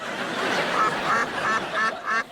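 A rubber duck gives a quick series of about five squeaky honks over a noisy, hissing background.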